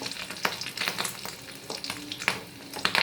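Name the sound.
fish roe popping and sizzling while frying in a pan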